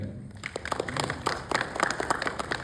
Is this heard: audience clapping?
yes